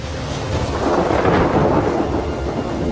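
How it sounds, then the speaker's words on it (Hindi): A thunderstorm arrives in Kakadu, Australia, with deep rolling thunder swelling and fading over steady heavy rainfall, loud and close with no voices. "आसमान में काले बादल दिखाई देने लगे हैं। बरसात आ चुकी है।"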